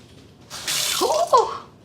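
Water gushes from a newly repaired tap indoors, a short loud splashing rush that swells and then eases, with no talking over it.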